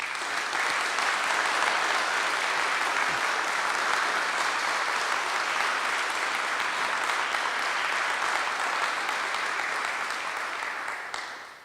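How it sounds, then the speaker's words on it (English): A groundbreaking ceremony for a biogas cogeneration facility draws a long round of audience applause, dense and even from many hands, holding steady before tapering at the end. "can you give those 3 a round of applause?"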